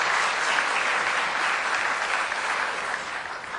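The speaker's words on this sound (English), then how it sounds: "I think he deserves a huge round of applause" A crowd gives a long, dense round of applause at a Delhi Q&A session, loud and steady throughout, fading slightly near the end.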